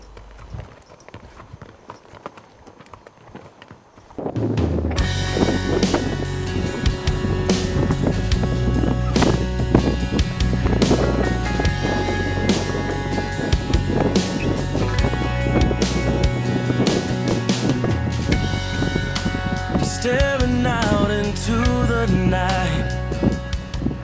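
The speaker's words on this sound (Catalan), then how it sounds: "El vent es comença a acusar." Strong mountain wind at high camp on Pic Lenin, a quiet start then a sudden loud, sustained buffeting roar with flapping and rumbling gusts close to the microphone.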